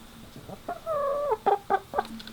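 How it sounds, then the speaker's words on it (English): A chicken clucks and squawks nearby in a handful of short, sharp calls with a longer drawn-out note near the start, loud and clear with no talking over it. "Chicken!"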